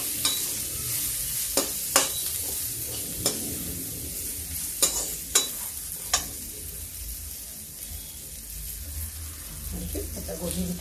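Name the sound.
cabbage frying and being stirred in pan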